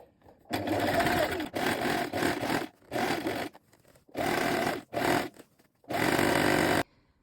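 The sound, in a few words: sewing machine stitching a second gathering line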